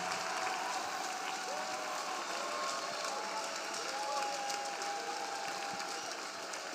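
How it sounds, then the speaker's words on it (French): A church congregation claps for Jesus Christ during an intercession and prayer service, a dense, steady wash of applause filling the room with a sustained crowd roar and no pause throughout. "Let us clap for Jesus Christ."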